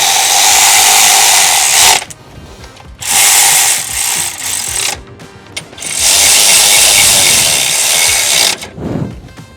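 A power tool runs in three long, loud bursts, tightening bolts on the pulleys and power steering pump of a 5.3L Chevy truck engine. Short pauses with faint clatter separate the bursts.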